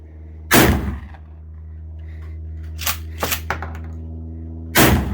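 A shotgun fires training loads outdoors, with two loud blasts separated by a few seconds. A quieter pair of clicks and handling noises falls between them, and a steady low hum runs underneath throughout.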